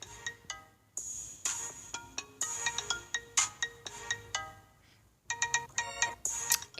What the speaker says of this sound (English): iPhone 6 Plus, that's my ringtone for now.